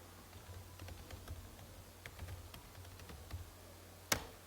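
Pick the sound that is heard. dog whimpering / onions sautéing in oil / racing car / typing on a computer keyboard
typing on a computer keyboard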